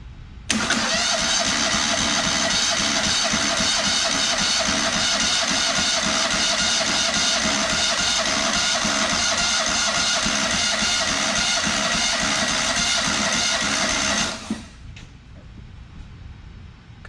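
A Kohler Command Pro small engine with an almost dead battery cranks during a compression test, a steady, loud, whirring churn that runs continuously for about fourteen seconds before cutting off abruptly.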